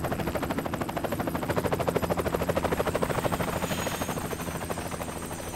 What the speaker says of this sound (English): We've got a helicopter over here making a ton of noise